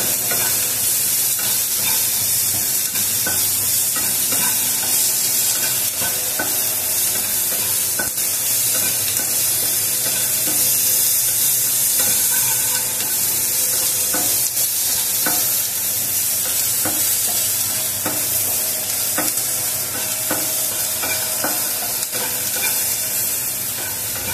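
Onion and capsicum sautéing on a high flame for butter garlic chicken, a steady loud sizzle with frequent scraping stirs against the pan running continuously, no voices.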